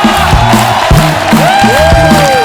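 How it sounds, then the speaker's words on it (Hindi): A studio audience at a comedy show cheers and applauds for Gaurav, a loud, dense crowd roar with whoops, while music with sliding tones plays through it. "जोरदार तालियां गौरव के लिए"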